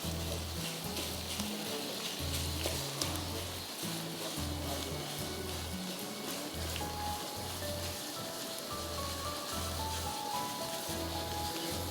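Mixed thigh, leg and breast chicken mince cooking in a pan until it turns white, a steady hissing sizzle, with a low rhythmic pulsing hum underneath and no talk.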